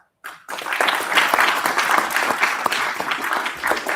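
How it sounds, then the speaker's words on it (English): A conference audience at STAAAR 2025 gives a sustained round of applause for best paper award winners. Dense, loud clapping starts abruptly and continues steadily to the end with no voices over it. "a big round of applause for all the best paper award winners for this wonderful achievement"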